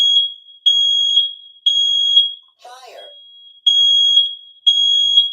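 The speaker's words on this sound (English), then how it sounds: "Yes, there is a fire alarm." An indoor fire alarm sounds in loud, piercing repeated beeps with short gaps, broken once by a brief burst of a voice.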